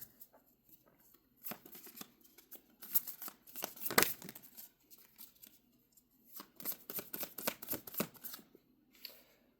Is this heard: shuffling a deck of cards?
yes